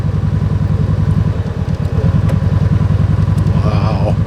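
A road motorcycle chugs over a rough rustic road in low gear, its engine pulsing loud and close with a steady thumping rhythm, while a rider's voice talks over it.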